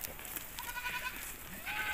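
A Himalayan shepherd's flock of sheep and goats gives scattered bleats as the animals approach, faint and somewhat distant over a steady outdoor hiss.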